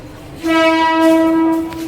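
A train's horn blares loudly and steadily for over a second, a single sustained tone close by, then cuts off, as a train arrives at Santacruz station.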